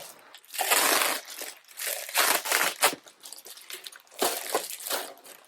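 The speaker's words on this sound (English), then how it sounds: "I will rip off the plastic on this so you can see the strap" Plastic wrapping being ripped and crinkled off a shoulder bag, several close bursts of crackling and tearing separated by short pauses.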